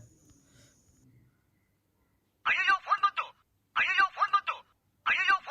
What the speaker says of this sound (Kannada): ಫೋನ್ ಬರ್ತಾ ಇದೆ ಮನೆಯಿಂದ